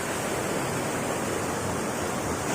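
The Orappankettu waterfall at Peechi, Thrissur, a small falls suitable for bathing, gives off a steady, unbroken rush of water that is close and even throughout, with no voices.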